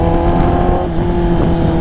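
A motorcycle engine revs loud and close on a village road, a continuous throaty drone that dips slightly partway through.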